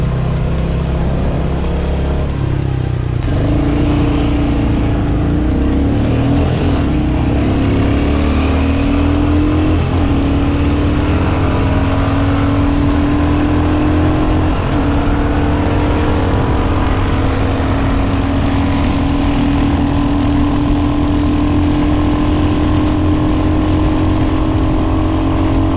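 A Royal Enfield HNTR 350 motorcycle is ridden through curves while its tires are tested. The engine drones loud and close and climbs steadily in pitch as it accelerates, with heavy wind rush throughout.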